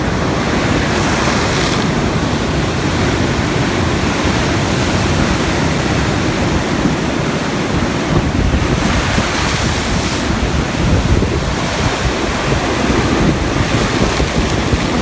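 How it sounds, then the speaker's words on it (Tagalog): Large waves crash and surge onto a coastal road during a typhoon in Southern Leyte, heard as a continuous loud roar of surf and wind buffeting the microphone, with heavier swells rising and falling throughout. "Dahil malalakas yung ampas ng alon dito sa may kalsada ng Bayok"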